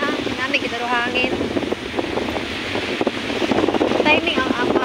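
Wind buffeting the microphone at Bolabog Beach, a constant rough rumble and hiss running underneath people chatting close by.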